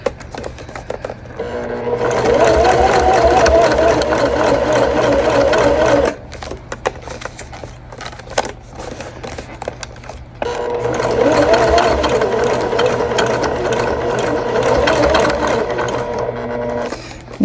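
A sewing machine stitching down the seam of an Aurora Bag over interfacing: two long, fast, even runs of needle chatter with a short quiet pause between them, close and loud.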